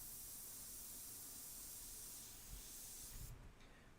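A spray bottle mists water onto a portrait painting, giving a steady, quiet hiss of fine spray close by for about three seconds that then stops abruptly.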